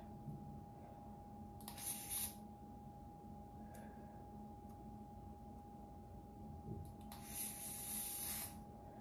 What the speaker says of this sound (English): let me put this even spray on here